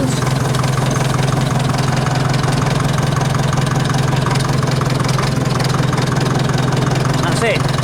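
A 1953 Nuffield tractor engine runs steadily with a low, even, close-up chug on its first drive of the year, while someone talks over it.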